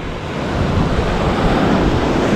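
Wind-driven ocean waves surge along the Crete coastline, a loud, steady roar of surf and gusting wind filling the whole stretch with no voices.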